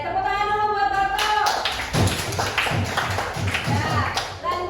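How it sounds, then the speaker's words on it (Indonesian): A classroom full of students claps in scattered, uneven applause that fades in and out, mixed with voices talking over and around it. "tepuk tangan dulu buat Barto"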